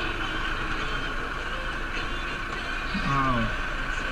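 An old farm tractor runs nearby with a steady low engine drone and a faint mechanical whine, and a brief voice is heard near the end.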